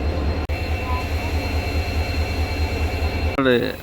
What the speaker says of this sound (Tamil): நம்மளை புல் பண்ண போகிறது டீசல் லோகோமோட்டிவ்ங்க.